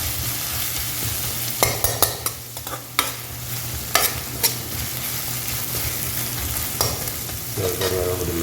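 Mustard seeds crackle and sizzle in hot oil at a street food stall while a metal ladle scrapes and clanks in the pan, with a steady low hum of burner noise beneath the irregular stirring knocks.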